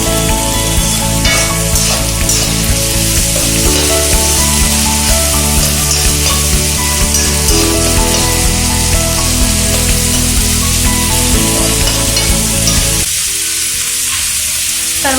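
Finely cut vegetables for veg momos frying in a pan, a close, dense and continuous sizzle with crackling throughout, accompanied by tonal background music that drops away near the end.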